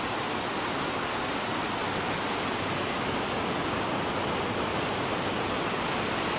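A dense, steady roar of rushing water fills the clip evenly, like the Reekie Linn waterfall heard from nearby, with no voices.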